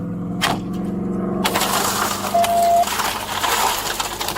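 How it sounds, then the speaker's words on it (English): A car window is struck and smashed, with a sharp crack, then a burst of shattering glass and crunching debris, close and loud, with short tonal squeaks. "Break the window, Perry, now."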